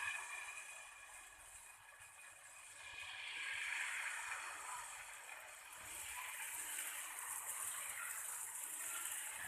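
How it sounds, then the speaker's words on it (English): Ragi dosa batter hits a heated tawa, giving a steady hiss and sizzle that swells slightly and holds for several seconds, close up, with no one talking. "I am pouring the prepared ragi dosa batter on tawa."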